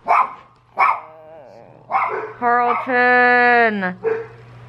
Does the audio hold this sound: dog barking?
yes